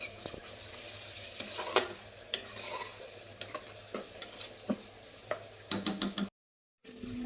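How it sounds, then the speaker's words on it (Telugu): Mutton liver curry stirred in a hot pan, with steady sizzling and frying under repeated scraping and clacking of the spoon against the pan, close and fairly loud, no talk. "కలుపుకోవాలి మొత్తం."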